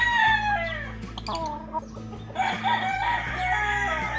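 A gamecock rooster at a seller's yard crows loudly and close, then clucks in short bursts, with farm background hum beneath.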